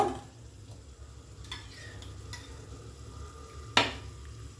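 Grated carrot halwa cooked in ghee is stirred in a pan, giving a steady low sizzle with soft scraping strokes and a sharp metallic clank near the end.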